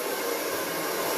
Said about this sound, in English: I'm just going to run that blow dryer just really quickly through